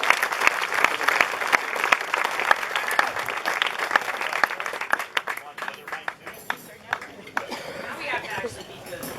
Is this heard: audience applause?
yes